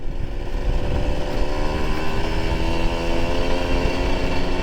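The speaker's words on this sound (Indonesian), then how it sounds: "Suara knalpotnya bagaimana teman-teman?" A motorcycle exhaust rumbles steadily at low speed at a landfill site, a continuous loud engine drone close by with no pauses throughout.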